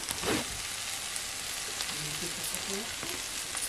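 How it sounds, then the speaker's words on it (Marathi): Sweet potato greens sizzle and fry in a pan with a steady hiss while being stirred, with a brief louder scrape near the start and faint background speech. "आता एकदा परत परतवून घेऊया."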